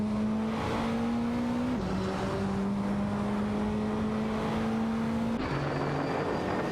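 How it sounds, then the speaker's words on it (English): Simulated GT3 race cars in a racing video game, including a Lamborghini Huracan GT3 and Alfa Romeo GT3 entries, drone steadily with engine tones stepping down through gear shifts, a continuous close synthetic whine with no voices. "We're watching our controlled cars race against each other in a simulated racing game."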